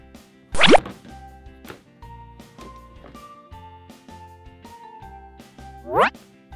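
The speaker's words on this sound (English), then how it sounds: "Let's load all of our fruit back into the basket" Pieces of fruit dropped one after another into a shopping basket, each landing with a short, bouncy plop, with two louder plops near the start and end over a light musical backing.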